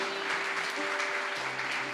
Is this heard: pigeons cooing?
no